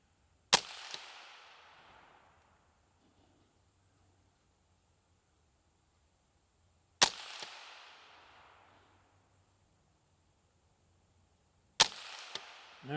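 Tippmann M4 rifle chambered in .22 Magnum firing at a target, heard as three sharp, loud reports spaced several seconds apart, each trailing off in a short outdoor echo, with no talking between shots.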